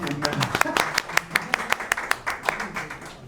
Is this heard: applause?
yes